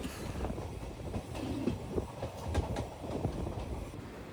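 A Mangalore–Shoranur passenger train runs along the rails, its carriages rumbling with a steady clickety-clack and brief wheel squeaks, heard from inside at moderate volume without talk.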